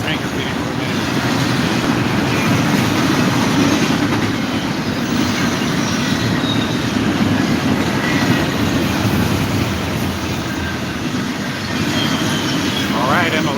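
A freight train passes close by with a dense, continuous roar of rolling wheels and rattling cars, and faint wheel squeals come through near the end.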